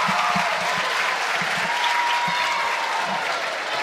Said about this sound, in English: The round of applause is for J.C. Smith